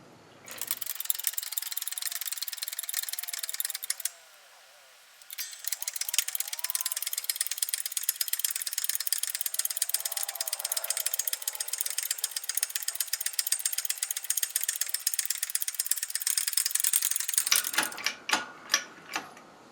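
Lathe keyway tool taking a second cutting pass in a pulley, a steady close rattling scrape that runs for several seconds, pauses briefly, then continues for a long stretch before ending in a few separate knocks.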